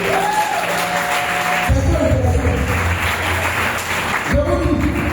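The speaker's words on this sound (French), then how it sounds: "Acclamez ce ton mari" A church audience at a spiritual retreat applauds and acclaims in a steady wash of clapping and crowd noise, while a voice carries on over it throughout.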